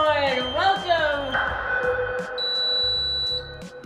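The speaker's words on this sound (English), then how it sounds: "It says the fire alarm's gone off." Fire alarm sounding inside a building: a steady high electronic alarm tone rises in the middle of the clip and holds for about a second, heard under loud ongoing talk and room chatter.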